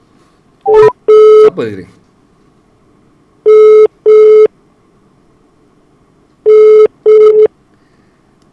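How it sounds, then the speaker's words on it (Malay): A telephone busy signal repeats as three pairs of loud, steady electronic tones at even intervals, with a brief spoken question near the start. "Saya call balik."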